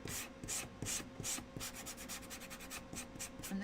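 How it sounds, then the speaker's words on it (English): Wood being sanded by hand with 80 grit sandpaper for a DIY Highland cow craft kit: steady rhythmic back-and-forth scratchy strokes, close and fairly quiet, with no talking. "this is an 80 grit sandpaper"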